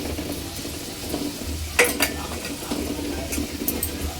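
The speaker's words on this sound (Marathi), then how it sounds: "कांदा चांगला लाल होईपर्यंत भाजून घ्यायचा आहे।" Onion frying with bay leaf in a pan for egg biryani, a low steady sizzle with a sharp utensil clink and scraping stirs on the pan.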